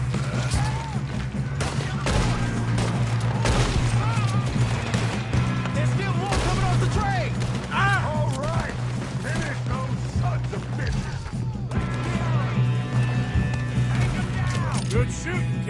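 Gunfire during a Red Dead Redemption 2 shootout, repeated sharp shots cracking at irregular intervals, some close and loud, over a steady low drone, with people speaking and shouting in between.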